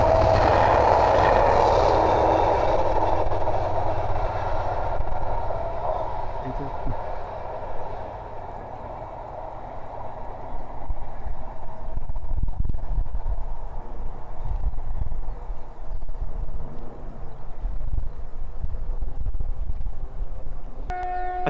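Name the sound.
freight train, locomotive 70805, passing at Langford on the ECML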